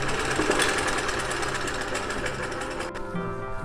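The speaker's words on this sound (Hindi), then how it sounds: "इस तरह इस पर सिलाई लगा देंगे।" A sewing machine runs a seam on fabric for a baby girl's top, a fast steady close rattle of stitching that cuts off near the end, with no talk.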